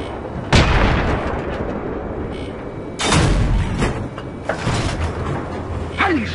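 Loud Battlefield 3 gunfire booms out in separate blasts, one early and another heavier burst midway, with further sharp shots and rumbling between them.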